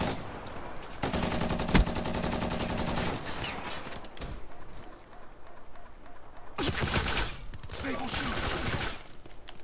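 Rapid automatic gunfire in Call of Duty: Black Ops III, coming in long sustained bursts with a sharp single crack and a brief pause between volleys, loud and close.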